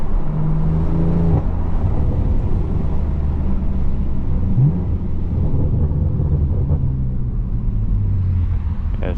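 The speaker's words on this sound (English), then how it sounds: "we got some nice sound with the valves open. You're able to hear the burbles a lot more." A BMW M4/M3 exhaust with its valves open in Sport Plus burbles and crackles through a close, loud run of revving, rising and falling with no talk over it.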